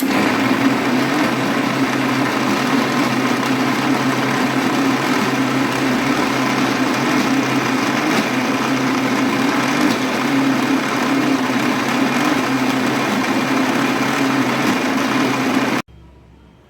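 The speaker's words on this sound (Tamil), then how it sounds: "வெட்டிய பனங்கிழங்கு துண்டுகளை மிக்சி ஜாரில் போட்டு" A mixer grinder blends cut pieces of palmyra tuber in its jar, a loud steady motor whir holding constant for about sixteen seconds before stopping abruptly.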